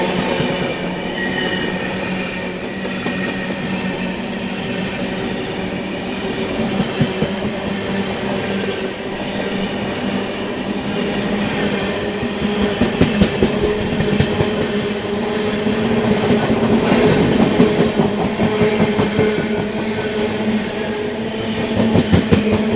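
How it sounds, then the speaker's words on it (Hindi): The Sampoorna Kranti Superfast Express, bound for Rajendra Nagar Terminal in Patna, rushes past in rain, a loud sustained rumble of wheels with rhythmic clickety-clack and squeals building toward the end. "राजेंद्र नगर टर्मिनल पटना की ओर जाने वाली आम जनता की राजधानी संपूर्ण क्रांति आ रही है"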